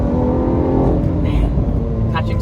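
A Lamborghini Aventador S with all-wheel drive pulls hard in third gear, its engine roaring loud and close under a driver talking over it.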